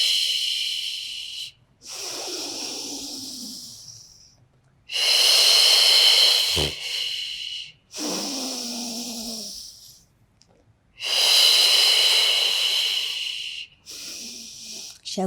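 Forceful exhaled breaths during a Pilates mat workout, several long hissing breath-outs separated by short pauses, close and clear with no talking.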